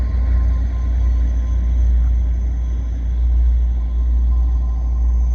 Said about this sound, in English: here comes an EXO train.